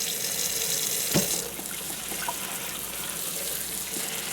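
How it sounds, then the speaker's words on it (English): Water pours steadily from a tap or can into a freshly repotted Cattleya orchid in a fast-draining potting mix, a continuous close trickling gush with a brief louder splash early on. "okay, so I just need to water this in"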